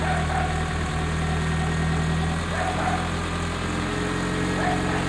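A Chevrolet Corsa Wind 1.6 engine runs after repair, a steady droning hum with slight swells as the throttle is worked, close and continuous throughout.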